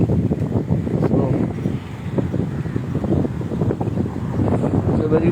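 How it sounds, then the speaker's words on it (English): Steady wind buffeting the microphone on a morning walk at Bandra Bandstand, a constant low rumble with gusty bursts throughout, loud and close. "it's a very windy day today"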